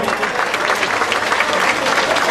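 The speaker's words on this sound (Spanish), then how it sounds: "fuerte el aplauso" Dense, steady applause from a large crowd honouring pyrotechnicians, loud and continuous throughout with no pauses.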